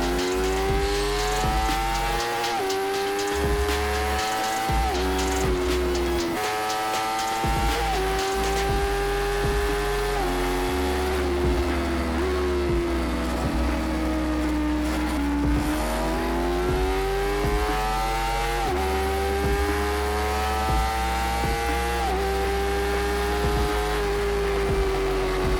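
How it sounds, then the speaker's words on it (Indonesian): A Honda CBR250RR two-cylinder sport motorcycle engine revs high and whines toward 14,000 rpm, its pitch climbing and dipping repeatedly as it accelerates hard, loud and close throughout. "Mendengar lengkingan mesinnya pun sama menyenangkan dengan yang lama karena saluran gas buang juga serupa"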